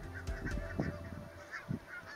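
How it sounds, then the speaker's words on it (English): Barnacle geese honk from a field, with several overlapping calls at moderate distance and a steady low rumble beneath them, with no voices. "Just coming up is a field full of barnacle geese."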